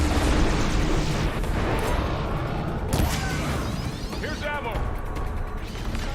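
A Ravager cannon fires during combat in Horizon Forbidden West, with heavy booming blasts and crashes over a loud, dense battle din, and voices talking in between.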